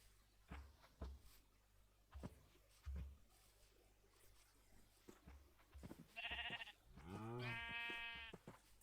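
Several bleats from Minecraft sheep come late in the sequence, following a scatter of soft in-game thumps and footsteps; the calls are fairly quiet, wavering and nasal, two close together near the end.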